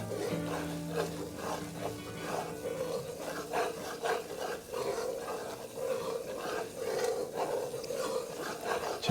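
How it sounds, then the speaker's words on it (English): Flour and butter roux stirred in a pan, a continuous scraping and rubbing with repeated strokes of the spoon, close and moderately loud, no talking. "Just keep stirring it because you don't want it to stick to the bottom of the pan"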